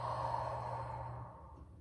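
A slow, soft exhale during an evening yoga stretch, a breathy airy release of nearly two seconds that fades gently toward the end, close and quiet.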